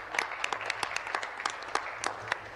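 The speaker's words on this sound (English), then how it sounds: "you deserve a round of applause" Applause in a legislative chamber, scattered individual claps rising into a brief round, fairly soft and a little distant, with no talking over it.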